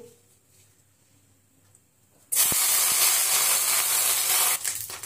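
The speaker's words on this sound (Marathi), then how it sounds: "कढईमध्ये तेल टाकलेलं आहे, त्यामध्ये आपण कढीपत्त्याची पानं टाकून घेऊ।" Curry leaves dropped into hot oil in a kadhai for tempering burst into a loud, sudden spitting hiss after a quiet start, sputtering steadily up close for a couple of seconds before easing off.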